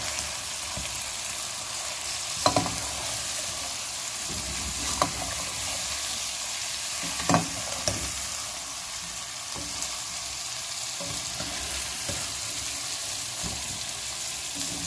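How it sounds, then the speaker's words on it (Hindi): Ginger garlic paste is stirred and fried in a pan for chicken karahi, a steady soft sizzle broken by scattered spoon scrapes and clinks, close and even throughout. "जिंजर गार्लिक पेस्ट, इसको हम मिक्स करेंगे।"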